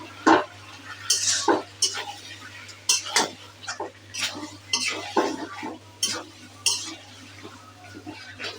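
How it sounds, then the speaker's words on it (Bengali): Meat and onions sautéing in a pot, a spoon scraping and clanking against the metal in repeated stirring strokes over a low sizzle, with a steady hum underneath. "পেঁয়াজ দিয়ে দিচ্ছি, যে মাংস কষাইতেছি।"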